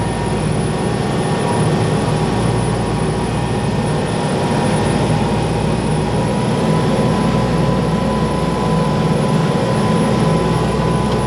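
A Volvo TAMD 63P diesel on a 2000 Pursuit 3400 Fisherman boat runs at rising RPM, giving a loud, steady, close engine drone with a deep rumble that stays even throughout, no voices.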